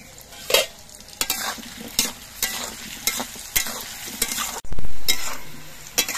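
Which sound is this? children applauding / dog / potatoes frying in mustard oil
potatoes frying in mustard oil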